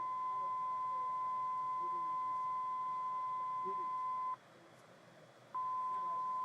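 A steady pure test tone from an AVX-10K device plays in a test booth, then breaks off for about a second and resumes, over a low background hiss.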